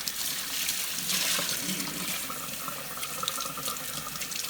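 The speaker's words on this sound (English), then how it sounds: "First I'm going to just wash my hands and coming inside." Tap water pours steadily into a sink as hands are rinsed, a continuous close hiss and splash that stays fairly even throughout, with faint handling noises mixed in.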